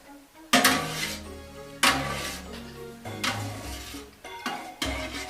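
A spoon stirring rennet into milk in a pot while making Caerphilly cheese, with repeated scraping and clinking strokes against the pot in several bursts, close and fairly loud, with no talking.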